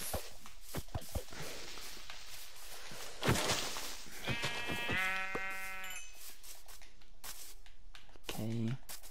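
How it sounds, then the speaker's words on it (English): A Minecraft sheep bleats in clear, harmonic bursts near the middle and again at the end, set among soft footsteps and game sounds. "There's a sheep."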